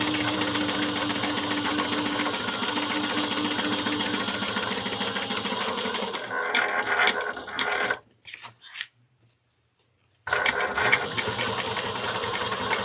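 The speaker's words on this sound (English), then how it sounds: "I'm just sewing 1/8 of an inch all the way around" A sewing machine runs a steady, fast-rattling stitch along a handbag seam for several seconds, pauses briefly with a few soft clicks, then starts stitching again, close and loud.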